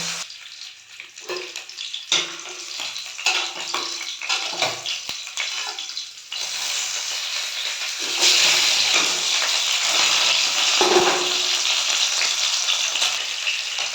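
Steady hissing sizzle of a fish head frying in hot oil, with scattered clinks and scrapes early on, growing louder and denser in the second half.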